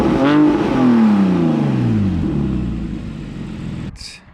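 A Porsche Cayman S engine with a 7,500 rpm redline revs hard, then the pitch slides down as the revs fall away over a few seconds, loud and close, ending in a brief click.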